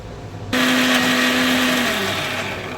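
A kitchen blender starts abruptly and runs loud and steady, grinding a hilsa fish head with bitter gourd, turmeric, salt and a little water into a paste, its whine easing slightly toward the end.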